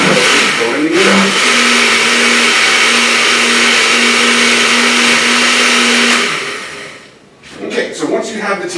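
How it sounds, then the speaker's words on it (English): Kitchen blender pureeing tomatoes for salsa, a loud, steady motor whine lasting about six seconds before winding down, then a short clatter of blades and contents. "So here you go, blending it up."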